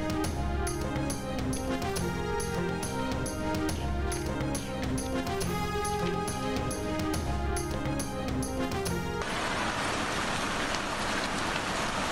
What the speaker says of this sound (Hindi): कराची के मुख्तलिफ इलाकों में मूसलाधार बारिश।